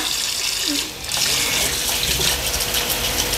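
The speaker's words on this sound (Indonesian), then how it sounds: "ini harus dicuci bersih karena ini kemungkinan besar dari sawah" Genjer greens picked from a rice field are washed under steady running water, a loud continuous gush and splash close by with brief dips in flow, and no one talking over it.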